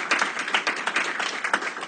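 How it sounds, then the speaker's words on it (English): A short burst of class applause greeting an administrative intern, with a few pairs of hands clapping in an uneven rhythm. "Let's give her a round of applause."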